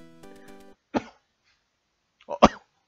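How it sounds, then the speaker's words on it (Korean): Two sharp, close coughs about a second and a half apart in a video game, following a brief electronic tone; otherwise quiet. "기침 계속 나냐?"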